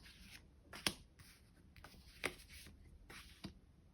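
Tarot cards are drawn and shuffled by hand in a quiet room, giving soft papery slides and a few sharper snaps spaced about a second apart, close and faint.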